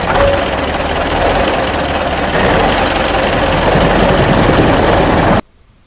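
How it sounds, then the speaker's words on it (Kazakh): A cartoon tractor engine runs at a steady idle, a loud, close, rough mechanical rumble with a dense knocking texture. It holds evenly for several seconds, then stops abruptly, with no voices. "Трактор."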